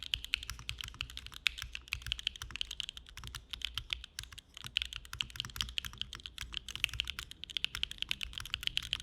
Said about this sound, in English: I've never actually owned my own mechanical keyboard